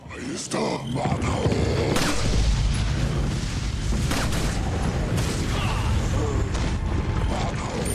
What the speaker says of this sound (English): See, now, because they're bombarding us, the enemies that come to attack us from here will explode